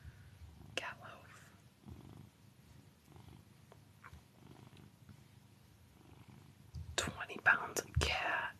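Cat purring softly up close, a low continuous rumble that runs through soft whispery sounds, with louder handling noises toward the end.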